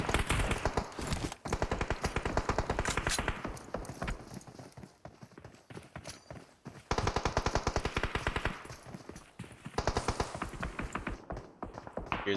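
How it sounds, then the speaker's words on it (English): Rapid automatic gunfire in the battle royale game PUBG Mobile during a scrim event broadcast, dense bursts of clattering shots rolling on almost continuously, loud and busy with brief lulls between volleys. "There's the shots coming across."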